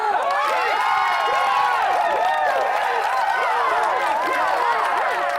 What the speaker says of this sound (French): je veux qu'on applaudisse chaleureusement à partir de maintenant!